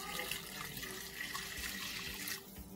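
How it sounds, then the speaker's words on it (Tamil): Water is poured into a pot of simmering okra curry with chilli powder, making a faint, steady splashing trickle that runs evenly throughout. "தண்ணி கொஞ்சம் சேர்க்கிறேன்."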